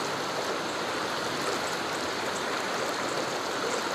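River stream water rushing steadily and close at hand during a wade across a river, a continuous broadband wash with no voices over it.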